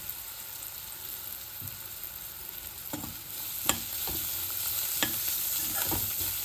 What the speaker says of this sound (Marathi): त्यामध्येच मी आता हे लसूण खोबरं आणि कोथिंबीरची पेस्ट टाकून देते